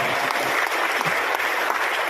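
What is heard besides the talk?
audience applause for Major General Julius Selvanus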